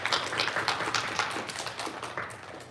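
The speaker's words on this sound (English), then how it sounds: "Give yourselves a round of applause." Grade 5 spelling bee students applaud at the end of a round: a faint, even patter of many hands clapping, with no talk over it.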